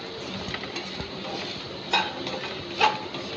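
Spiced mushroom masala with coriander and turmeric powder is stirred in a pan with the heat off, a soft, continuous scraping under faint sizzle with two sharper utensil clinks against the pan.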